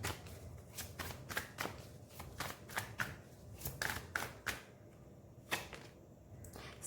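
Tarot cards are shuffled in a quick run of crisp riffling slaps and flicks, close and fairly quiet, with brief pauses between bursts and no talk.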